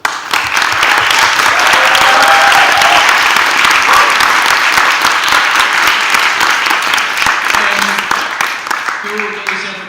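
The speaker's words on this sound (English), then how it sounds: "can you please give a candidate a round of applause?" An audience at a student presidential debate applauding a candidate, a loud, dense, sustained clapping that fills the room and then thins out near the end.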